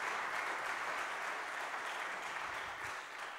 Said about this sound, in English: And the applause continues here in Pine City for you folks.